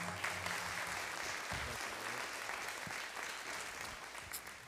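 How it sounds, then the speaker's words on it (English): An audience applauds Rory Groves at a talk on AI, work, family and community, a steady wash of clapping holding at even loudness for several seconds with no voices over it. "Give a round of applause for Rory Groves."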